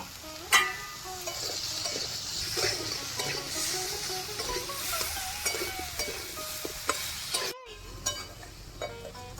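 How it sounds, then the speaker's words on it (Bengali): Jackfruit and chicken liver frying in a pan with salt and turmeric, giving a steady sizzle with scattered stirring scrapes and clinks of a utensil against the pan, close and moderately loud throughout. "একটু লবণ, একটু হলুদ আর লবণ দিয়ে দেবো। ভালো করে ভেজে নিচ্ছি।"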